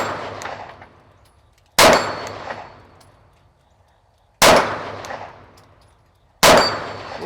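Three loud pistol shots ring out on steel targets at a range in the rain, each a sharp crack followed by a bright metallic clang that rings and decays, spaced a few seconds apart with quiet between.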